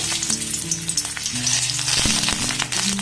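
Chopped garlic pieces sizzling in a small amount of mustard oil, a loud continuous frying crackle with occasional stirring knocks throughout.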